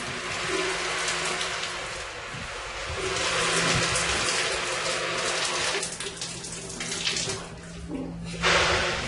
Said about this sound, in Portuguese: Em menos de 2 horas, é a segunda vez que Kevin entra no chuveiro